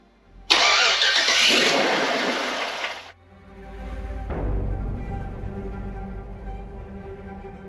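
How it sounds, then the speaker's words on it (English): A truck engine cranks with a loud harsh whir for a few seconds, then catches and fires up, settling into a low rumbling idle; this is the truck's first start after its 4L60E transmission was rebuilt. "Turn the truck on?"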